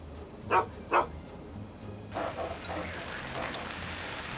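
A dog in Fallout 3's Vault 112 gives two sharp barks about half a second apart, then a voice speaks over steady low game ambience.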